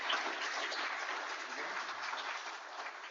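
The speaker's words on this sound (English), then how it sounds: "let's give Mark a round of applause" A meeting audience applauds a speaker with a continuous, even round of clapping at moderate volume and no talk, sounding somewhat muffled and thin.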